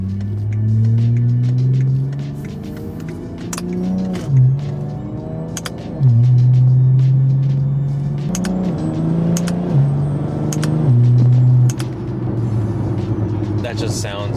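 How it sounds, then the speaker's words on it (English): A BMW G-chassis car accelerates at part throttle, its engine note climbing and then dropping sharply at each quick gear shift from magnetic paddle shifters, a steady rhythm of several upshifts heard close from inside the cabin. "it's exactly what you would expect out of shifting with magnetic paddle shifters"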